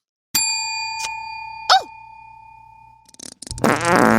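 A fart sound effect begins with a bright electronic ding, then comes a brief rising-and-falling squeal, then a loud buzzy raspberry burst at the end.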